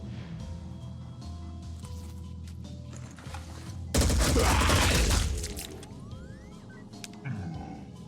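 Return fire in the Phoenix Point tactical game: a sudden, loud burst of rapid gunfire lasting about a second, set over a low droning background, with scattered mechanical clicks before and after.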